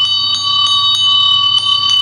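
Small bell rung fast in a children's song, a quick series of bright, clear strikes over a steady ringing tone, close and loud with no voices.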